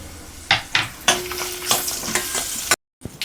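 Dried red chillies fry in hot oil for a sambar tempering, a close, bright sizzle broken by several quick scraping stirs against the pan, then a brief silence followed by a final stir.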